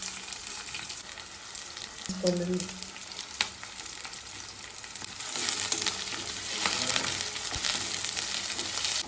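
Onions frying in oil in a pan after mustard and cumin seeds have spluttered, a steady broadband sizzle with light stirring scrapes, continuous and close, with no talk.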